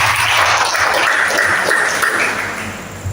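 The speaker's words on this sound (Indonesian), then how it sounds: "Yang amin, tepuk tangan bagi kita." A church congregation clapping at a Sunday morning service: a dense, sustained burst of applause from many hands in a reverberant hall, tapering slightly toward the end.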